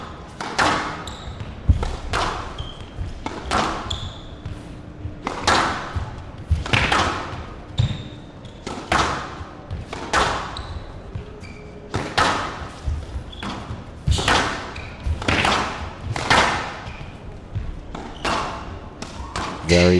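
A squash ball is struck and rebounds off the walls through a long professional rally in a 2003 Super Series final, with sharp, regularly spaced thwacks and thuds over twenty seconds and a commentator talking now and then.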